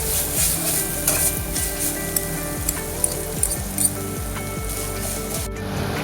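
Soy sauce and tomato sauce going into vegetable noodles in a hot pan, with a loud continuous sizzle, repeated scraping and stirring strokes and a few light clinks of a utensil on the pan, and no voices.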